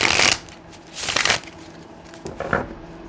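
Tarot cards being shuffled by hand in three quick riffling bursts, close and crisp, separated by short pauses.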